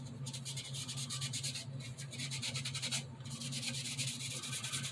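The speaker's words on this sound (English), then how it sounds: "just kind of real gently scuff the whole thing" Car bodywork on an RX7 being gently scuffed by hand with fine sandpaper: steady, quiet rhythmic rubbing strokes, back and forth with brief pauses, close by and alone.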